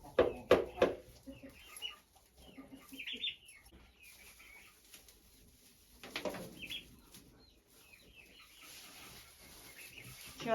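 A turkey hen with chicks gives soft clucks and small peeping calls in short scattered bursts, close and fairly faint, with a quiet voice and light handling noises around them.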